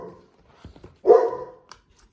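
A dog in a home room gives a single short, close bark after a few soft sniffs or movements, fairly loud and alone.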